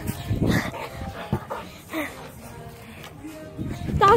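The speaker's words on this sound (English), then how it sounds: "Dog chasing me on the floor." An aggressive dog chasing a person indoors barks and whimpers in short bursts, close by, mixed with scuffling and a person's shouts.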